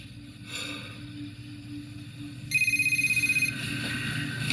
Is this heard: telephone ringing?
yes